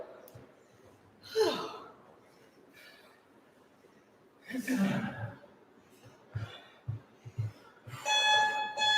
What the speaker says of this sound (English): You can ignore that beep.